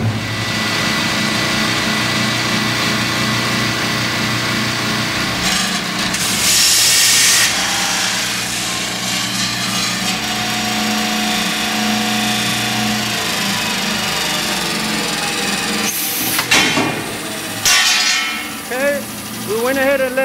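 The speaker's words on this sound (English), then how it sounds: "we'll do the cut as an oscillation" A 2022 Everett Industries 20hp oscillating wet abrasive cutoff saw cutting stock held in a vise: a loud, steady motor roar with a grinding hiss that holds for the whole stretch, and a few sharper bursts near the end.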